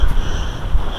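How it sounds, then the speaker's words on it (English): Gusty wind and rain while walking outdoors roar straight into the microphone as a loud, low, buffeting rumble with a steady hiss above it, with no voices. "Just walking around in the rain"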